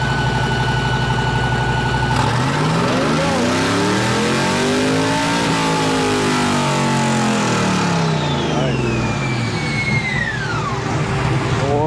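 A hot rod on a drag strip idles loudly, then the engine revs hard and climbs through the gears as it launches and pulls away, a sustained roaring rise that trails off into the distance.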